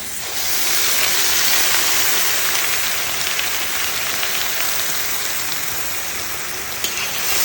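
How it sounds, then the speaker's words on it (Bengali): Onion, ginger and garlic paste with whole garam masala, black cumin and peppercorns fries in hot oil, giving a dense, continuous hiss that stays loud and close throughout without any voices. "এই মশলাটা কিন্তু আমি হালকা করে ব্রাউন করে ভেজে নেবো লাল লাল করে"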